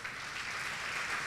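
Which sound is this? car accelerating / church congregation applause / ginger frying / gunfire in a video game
church congregation applause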